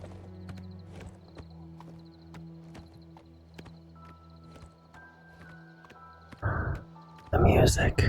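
Horse in the video game Oblivion Remastered, rhythmic hoof clip-clops with a whinny, followed by loud sudden impact bursts near the end.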